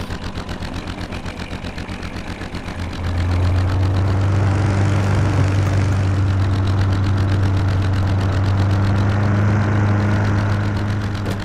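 A cab engine in Heist Kitty runs with a steady low drone, rising in level after a few seconds into a louder, sustained hum with a rhythmic pulsing texture, continuing unbroken to the end.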